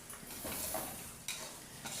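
Potatoes and carrots sizzle steadily in a hot pan, with occasional scraping stirs breaking through the constant crackle.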